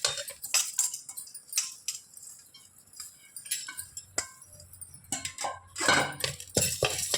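Black urad dal and green gram dry-roasting in a pan, heard as irregular metallic clinks and scrapes of a spatula against the pan, with quiet gaps in between and no talking.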